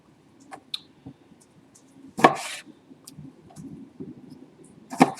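A knife dicing tomatoes on a cutting board: a few sparse, moderately close chops and taps scattered over quiet background, with two sharper, louder cuts standing out.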